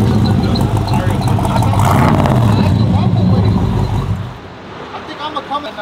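A truck engine fitted with a Corsa Bullet exhaust rumbles loud and close in a deep steady drone, dropping off near the end, with people talking over it.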